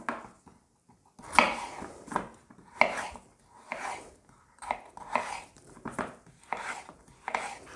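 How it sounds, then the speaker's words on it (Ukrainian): Sliced potatoes being cut with a knife for crispy peasant-style fried potatoes: a steady run of about a dozen crisp, close knife strikes against a board, evenly spaced, with no talking. "Для початку нарізаємо картоплю."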